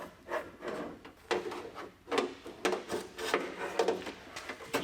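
A window regulator slides out of a GMT800 Chevrolet Silverado door, giving scraping, rubbing metal-and-plastic sounds in uneven bursts, close by and moderately loud.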